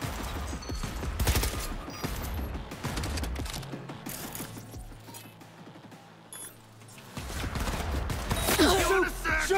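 Rapid weapon fire in Cyberpunk 2077, a dense mechanical rattle of repeated shots running throughout, loud and close over busy game sound, with a short lull midway before the clatter picks up again.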